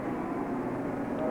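Racing motorcycles at full throttle on the main straight of a six-hour endurance race: a dense, steady engine roar holds constant throughout, loud and continuous with no clear breaks.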